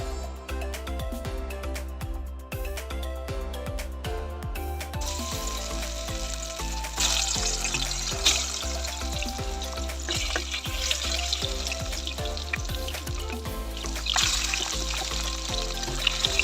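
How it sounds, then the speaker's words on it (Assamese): Fish pieces coated with salt, turmeric and garlic fry in hot oil with a steady, dense sizzle and crackle, punctuated by occasional clinks and stirring scrapes, the hiss swelling louder partway through. "প্ৰথমে এতিয়া মাছখিনি ফ্ৰাই কৰি ল'ম।"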